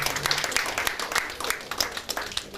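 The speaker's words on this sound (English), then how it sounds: "Let's give him a round of applause." Audience applause at a formal ceremony honoring a chief, a ragged patter of claps from a moderate crowd with some voices mixed in.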